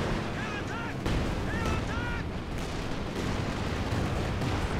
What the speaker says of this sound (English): That's the land mattress going to work.